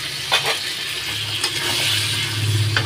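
Cooked-down spice masala for a green jackfruit and prawn curry sizzles and spits in the pan right after water is poured in. The hiss is loud and close, with a few stirring scrapes on top.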